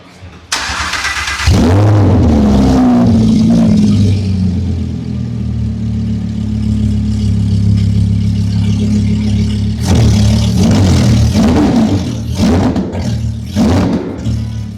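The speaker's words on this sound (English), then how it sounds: "Let's start it without the exhaust and see how it sounds." A Lamborghini Huracán EVO with its exhaust removed cranks and fires up at close range, settling into a loud, raw idle, then gives several sharp revs near the end.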